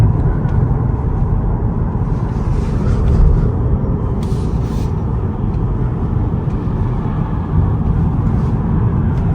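A 2025 Toyota Camry's motor running steadily at night, a continuous low engine rumble with broadband road-like noise, moderately loud and unbroken, with no talking.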